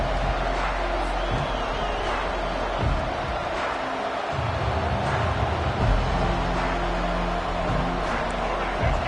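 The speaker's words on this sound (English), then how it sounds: "This crowd bringing an ear-splitting welcome to their visitors" A packed football stadium crowd at an Oregon Ducks game roars in a dense, continuous wall of cheering and noise that holds for the whole stretch without letting up.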